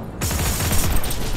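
Rapid gunfire rattles out in Heroes & Generals, a loud, dense burst of automatic shots firing in quick succession with no pause.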